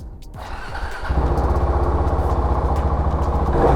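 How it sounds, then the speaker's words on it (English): A modern motorcycle started with the key: a short whirr, then the engine catches about a second in and settles into a loud, close, steady idle. "my favorite thing about modern motorcycles is turn the key"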